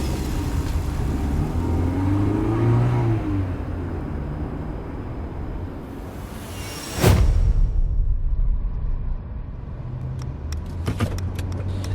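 A car engine idles and revs under low rumble, then a sharp door slam or thud rings out midway, followed by engine noise pulling away and faint rattling clicks near the end.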